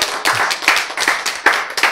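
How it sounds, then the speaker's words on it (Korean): Audience clapping at a lecture, several rhythmic bursts of applause close together, fairly loud, with no speech over it. "박수!"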